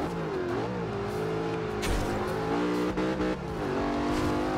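A Ford Mustang engine in Forza Horizon 2 drones steadily with shifting pitch, rising and easing as it drives, close and loud throughout with no talking.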